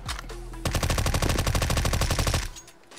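Rapid automatic gunfire rattles loudly in a video game playtest map, a dense burst of shots lasting about two seconds after a brief lead-in, then cutting off.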